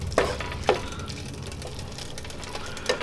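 Ground meat and onion fry in a pan, giving a steady low sizzle with a few sharp scrapes of stirring close by.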